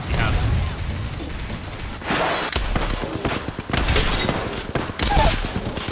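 Grenade explosions and bursts of gunfire from a first-person shooter video game, with loud booms and rapid shots coming in clusters over continuous background game noise.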